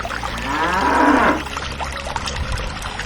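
A bull in an animated story lets out one long, loud, close moo that swells and then trails off, followed by quieter ambient noise and faint trickling.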